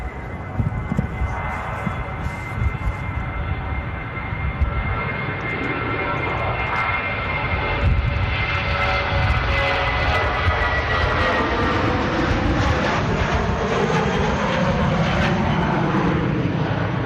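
An SAS Scandinavian airliner in the classic livery passes with a sustained jet engine roar and a whine that slides downward. The roar swells and holds loud across the clip, with brief faint talk near the start.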